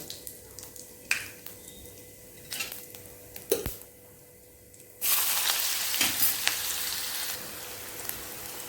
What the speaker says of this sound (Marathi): याला छान गोल्डन फ्राय होऊ द्या थोडा वेळ होऊ द्या